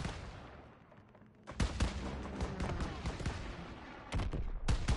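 Bursts of gunfire ring out in a WWII video game battle, with loud volleys arriving in irregular clusters and a short lull partway through before the shooting picks up again.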